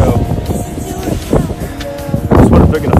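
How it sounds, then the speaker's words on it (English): Strong gusts buffet the microphone at an outdoor air show on a cold day, a rumbling, uneven roar with bursts of louder wind, while people talk over it. "it's really windy and it's cold"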